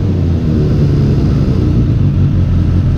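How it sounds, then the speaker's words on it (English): A carbureted engine is given throttle and then let off, a loud, close mid-pitched drone with a steady throbbing rumble running throughout, with no voices. "I'm gonna show you the engine when I'm giving it some throttle and letting it come off."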